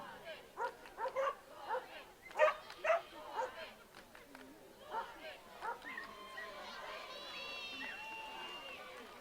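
A dog yips and barks in short excited bursts at an agility competition, the WAO 2014 Gamblers class, followed by a commentator speaking over the arena's background murmur.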